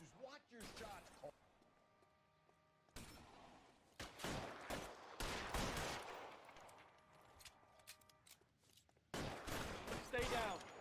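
Gunfire from the LA Noire video game, sharp bursts of shots scattered across the scene in several clusters, mixed with game noise and people talking throughout.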